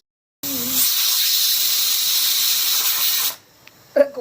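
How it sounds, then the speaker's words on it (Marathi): A pressure cooker on a wood-fired clay stove lets out a loud, steady whistle of hissing steam for about three seconds. It then cuts off, followed by quiet and a brief clatter. "कुकर शिट्या मारून राहिला चुलीवर."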